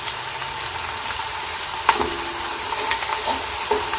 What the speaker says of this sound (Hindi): प्याज हमारा सुनहरी हो रहा है